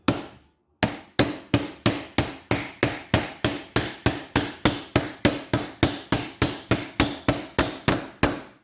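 A socket is hammered to drive a bearing outer race into place on a CompAir mobile compressor chassis: after one opening blow and a pause, about twenty-two sharp metallic strikes follow in a steady, close, loud rhythm.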